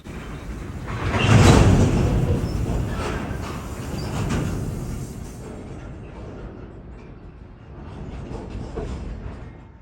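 A BNSF Warbonnet train creeps backwards through the Galesburg rail yard, giving low rumbling and clanking of railcars that swell early, then settle into a fainter, uneven rolling drone with occasional metallic knocks.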